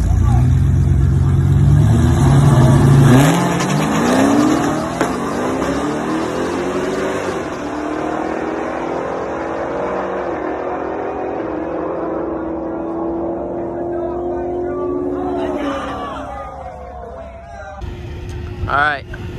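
Dodge Hellcat launching off the line in a drag strip grudge race, a loud engine roar sweeping upward as the cars accelerate away, with crowd talk underneath.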